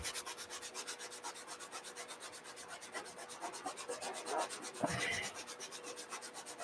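An 80 grit sanding block rubbed back and forth over a wooden game board, making rapid, even, close scratchy strokes with a brief pause and a clunk near the end.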